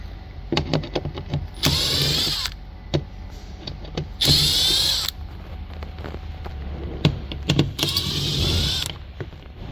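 Power tool driving out 7mm bolts from a Chevrolet Silverado mirror, three loud bursts of high whirring spin separated by clicks and clunks of handling, close up with no talking.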